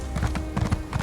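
Rapid clip-clop of horse hooves trotting in Elder Scrolls Online, steady and fairly close, with a faint whinny-like tone in the background.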